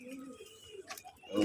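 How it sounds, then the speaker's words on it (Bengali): Domestic pigeons at a home pigeon farm coo softly and close by, a few low throaty calls with a louder burst at the end. "এখন দেখার কবুতর ডাক, এগুলো আমার ভালো লাগে"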